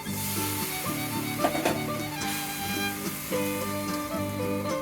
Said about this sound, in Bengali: অল্প একটু জল দিয়ে দিচ্ছি।